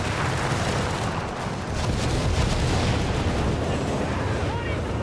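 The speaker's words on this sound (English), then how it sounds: "And city bombing runs actually." City bombing run explosions in Company of Heroes 3 make a loud, continuous, dense rumble of overlapping blasts and booms lasting throughout, with no pause.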